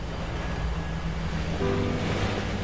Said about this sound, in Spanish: La calle se convirtió en un río embravecido.